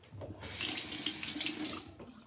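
Near-hot water runs steadily from a bathroom tap into a sink during a wet shave with a safety razor, a close, loud broadband rush lasting about a second and a half before cutting off.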